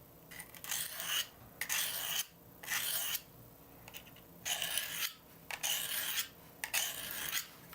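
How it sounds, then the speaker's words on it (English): A knife drawn in repeated passes across a sharpening stone, with about seven rasping strokes in an even rhythm separated by short pauses, close and fairly quiet with no talk. "the proper angle as you're doing the sharpening. So we're just gonna do several passes"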